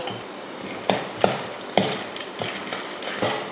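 Dried vathal frying in oil over low heat as a Tamil tomato kuzhambu is made, a soft steady sizzle broken by a few sharp clicks and scrapes of a spoon stirring in the pan.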